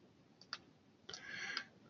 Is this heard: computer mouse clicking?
yes